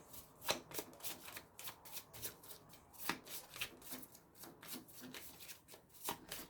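Tarot cards are shuffled close by, a rapid series of crisp riffling flutters and soft slaps in uneven bursts, with no voices.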